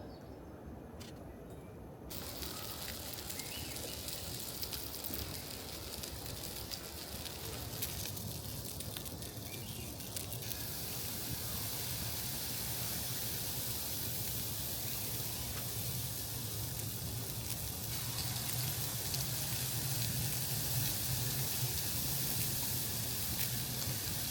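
A Blackstone griddle heating up for breakfast at a campsite gives a steady, loud, dense sizzling hiss that runs unbroken throughout and swells slightly toward the end.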